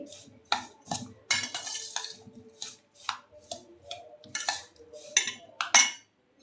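Amla pickle pieces tossed with salt and chili powder in a bowl give off a run of scraping, clinking strokes from a spoon against the dish, close by and fairly loud in uneven bursts.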